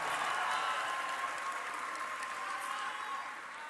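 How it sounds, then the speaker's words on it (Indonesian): Applause from a crowd at a political speech marking 25 years of reform in Indonesia: a steady, dense wash of clapping that holds at an even level throughout and fades slightly near the end. "Tepuk tangan untuk para pejuang reformasi kita."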